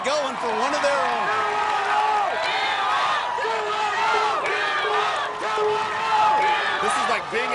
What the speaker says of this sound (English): this crowd has the 210 duo chant going for one of their own